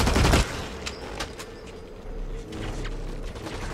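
Call of Duty competitive match on the Heavy Metal map, a loud burst of gunfire up close, then a string of lighter, more distant shots over background battle noise.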